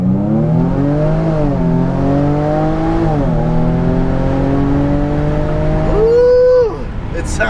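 A 2017 Jaguar F-Pace 35t AWD pulls hard in first gear, its supercharged engine note climbing steadily in pitch, dipping briefly and rising again before a final high rev and lift-off, loud and close from inside the cabin.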